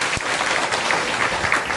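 An audience at a Hindu religious discourse (katha) claps in a dense, steady wash of applause that is loud and close and lasts the whole moment.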